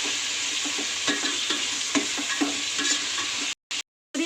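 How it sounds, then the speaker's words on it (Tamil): Coriander and mint leaves sautéing in ghee for ghee rice, a steady close sizzle broken by soft scraping stir strokes, cutting out near the end. "சேர்த்துட்டு நெய்யிலே நல்லா வதக்கி விட்டுக்கோங்க"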